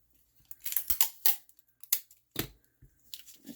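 Scissors snipping a piece of tape for a snowflake card, several sharp close crisp cuts in an irregular rhythm with quiet gaps, no voices.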